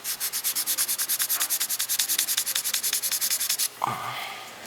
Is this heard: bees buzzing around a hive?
no